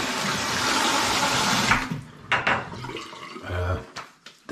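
Running water gushes steadily from a bathroom tap for a rinse after a shave, loud and close for about two seconds before thinning into splashes and drips.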